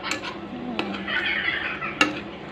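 A utensil stirs chicken adobo with soy sauce in a pot, producing close metallic scrapes and a few sharp clanks against the pot over a low, steady kitchen background, without speech.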